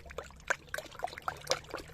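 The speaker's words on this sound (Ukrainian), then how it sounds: "Тепер ми наливаємо даний розчин в оприскувач" Pest-control solution for whitefly on cucumbers is poured into a sprayer with a quiet, uneven trickle and splash of liquid. The flow comes in small bursts and plays alone, with no voices.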